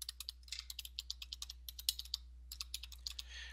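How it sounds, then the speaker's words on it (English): Computer keyboard keys tapped at a steady pace while entering a website name in sign-making software, with crisp, quiet, close clicks and a brief pause midway, no voices. "we'll type in a website"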